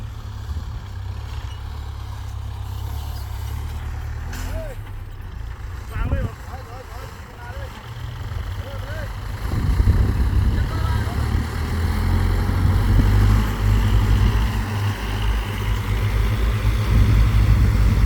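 A Mu 49 farm tractor rumbles across a rice paddy dike, its low engine note steady and then growing louder and rougher partway through, with voices talking over it.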